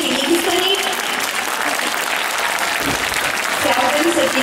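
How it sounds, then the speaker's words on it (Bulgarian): Audience at a rhythmic gymnastics competition and awards ceremony in Bulgaria applauds a judge from Greece, steady dense clapping throughout with voices mixed in beneath it. "Сега ще помоля аплодисменти за нашата съдийка от Гърция"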